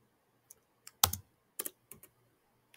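Typing on a computer keyboard while entering a Python command: a handful of separate, crisp key clicks in small irregular clusters against near silence, quiet and close.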